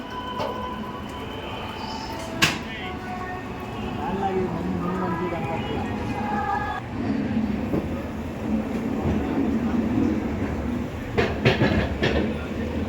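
Simhadri Express, an LHB-coach passenger train, pulls out of Guntur Junction with a steady low rumble and faint rhythmic clatter, a brief loud clank near the start and a few sharp metallic knocks toward the end.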